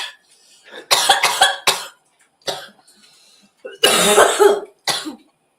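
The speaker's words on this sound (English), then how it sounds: "How many times you coughing?" Someone coughs in short, harsh bursts during a casual smoking session, several close, loud fits separated by brief pauses, with throat clearing between them.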